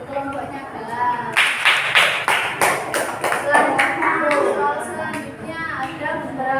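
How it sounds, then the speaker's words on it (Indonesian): Classroom group clapping hands after a correct answer, a burst of uneven claps lasting several seconds, close and lively, with children's voices chattering underneath. "Tepuk tangan buat kelompoknya Galang."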